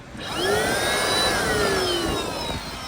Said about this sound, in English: Next up, we're gonna use the extractor. We're gonna pump water from this.